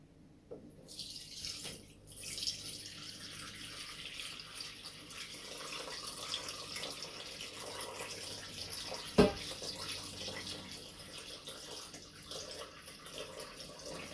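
Liquid is poured steadily into a Pyrex glass container, giving a continuous splashing rush that runs throughout, with one sharp clink partway through.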